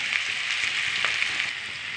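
Onions fry steadily in hot oil with salt, turmeric and curry leaves for an egg and green chilli curry, a loud, continuous close-up sizzle with faint crackles and stirring and no talking.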